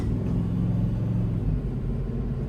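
A Dodge car bought at auction driving along a highway, a steady close low engine and road rumble from inside the cabin with no clear break for a gear change.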